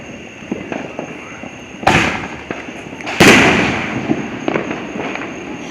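Fireworks explode outdoors, two loud sharp blasts with a trailing crackle, amid faint background pops and low murmuring.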